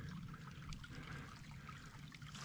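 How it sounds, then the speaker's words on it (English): A small stream trickles softly through a wooded side canyon toward a creek in a wilderness area, a faint, continuous babble and gurgle with no voices, steady and quiet for the whole stretch. "A little bitty stream running through it here,"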